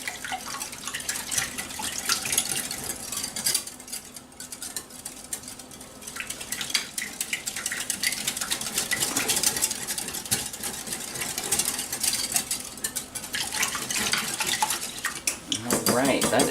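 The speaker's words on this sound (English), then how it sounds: "then give it a nice whisk" Egg yolks whisked in a bowl in a kitchen, heard as a busy, rapid clatter and scraping of the whisk against the bowl, moderately quiet and continuous, with no talk.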